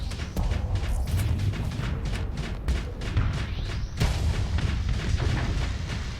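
Ship weapons firing in the space combat game Starsector, a dense run of booming, artillery-like shots with rumbling low end and sharp hits, loud and continuous throughout.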